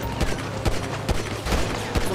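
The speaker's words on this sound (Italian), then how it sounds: "Sto sparando, chi sparo?" Gunfire in GTA5 rings out as a rapid string of sharp, fairly loud shots in an uneven rhythm, with no talk over it.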